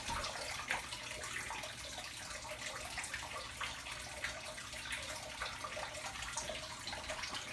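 Aquarium water is poured from one tank into another, a soft steady splashing trickle that runs without pause at low level with no voices.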